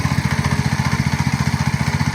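A walk-behind tractor's small engine chugs steadily at a quiet, even idle, its rapid regular pulsing close by and alone.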